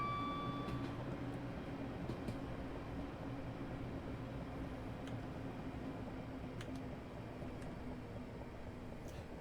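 A Class 378 electric train runs southbound toward London Euston in Train Simulator, giving a steady low rumble and motor hum with faint clicks over the track, without talk.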